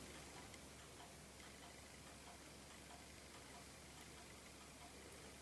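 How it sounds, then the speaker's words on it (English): A clock ticking steadily in a quiet room, faint regular ticks under a hiss of background noise, with no other sounds. "I know what's missing. It's a ticking clock."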